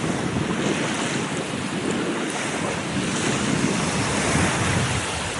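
Ocean surf rushes steadily under strong wind buffeting the microphone, a continuous loud roar of waves with no voices.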